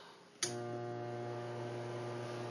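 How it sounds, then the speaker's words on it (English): A blower on an off-grid power setup is switched on and sounding odd: a sudden start, then a loud, steady humming drone with a strong tonal buzz that carries on alone. "I'm going to go ahead and turn on the blower."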